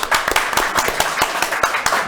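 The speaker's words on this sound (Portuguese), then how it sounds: "Então eu gostaria de uma salva de palmas." A small audience at a live podcast event claps in a brisk burst of close, sharp handclaps that keeps up steadily for a couple of seconds.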